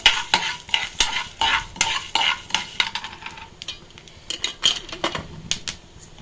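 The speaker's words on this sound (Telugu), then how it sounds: "ఒక 3 స్పూను మిరియాలు వేసుకుంటున్నానండి. ఇవి కూడా ఫ్రై చేద్దాం." Black peppercorns frying in a pan, with rapid irregular clinks and scrapes of a spoon stirring them against the metal over a light sizzle, bursts coming in quick uneven clusters.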